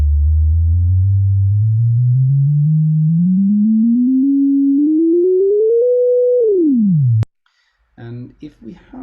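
Synthesized sine tones from WebAudioXML step upward through every semitone across three octaves, a smooth loud rising run that then slides quickly down and cuts off, followed by brief talk.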